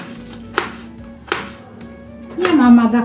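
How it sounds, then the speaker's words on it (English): A knife slices through tomatoes on a board with a few sharp, separate cuts spaced about a second apart, close and distinct, with a brief faint voice-like sound near the end. "we slice our tomatoes."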